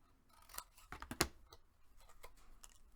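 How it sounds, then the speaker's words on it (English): Scissors cutting through chipboard in a paper-craft project: a few quiet, crisp snips and scratchy slices close by, the sharpest cut near the middle, then soft rustling, with no talk. "we're going to cut straight to the chipboard"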